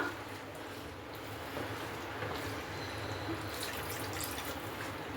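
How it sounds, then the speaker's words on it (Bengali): Water poured into cooked-down spice masala for a pointed gourd gravy makes a soft, faint trickle and gentle bubbling close by, with no talking. "এবার এর মধ্যে আমি জল দিয়ে দিচ্ছি"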